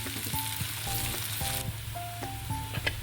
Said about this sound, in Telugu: ఇప్పుడు దీంట్లోకి రొయ్యలు యాడ్ చేసుకున్నాం